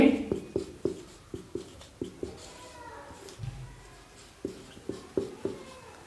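A pen or chalk writes a number in quick bursts of short, dry taps and strokes, fairly close and quiet, with a brief pause midway before the scratching resumes.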